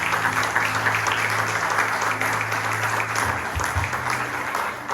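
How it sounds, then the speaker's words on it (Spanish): Sustained congregational applause at a church sermon, steady and dense throughout, with a low hum or organ tone underneath. "Denle un aplauso al Señor por eso."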